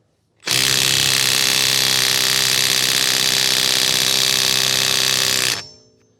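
A Milwaukee M12 FUEL subcompact impact wrench hammers at a shallow 22 mm socket on a stubborn lug nut, a loud, steady, continuous rattling burst lasting about five seconds before cutting off, with no talking.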